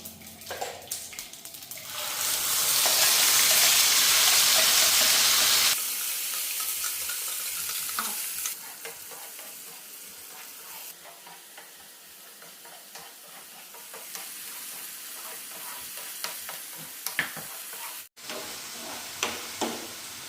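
A thick ground masala paste for vada pav sizzles and crackles in hot oil, flaring into a loud hiss before easing into steady frying with occasional stirring clatter.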